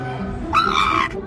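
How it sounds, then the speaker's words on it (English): A kennelled dog at an animal shelter lets out a short, high-pitched yelping scream that rises abruptly out of a quieter room, close and loud for about half a second. "when Mo saw a dog in a kennel and let out a high-pitched scream"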